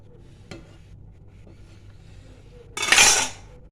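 A spoon works in a pot of boiling red lentils (masoor dal) to skim off the foam. A light metal tap comes first, then a brief loud scraping swish of the spoon near the end.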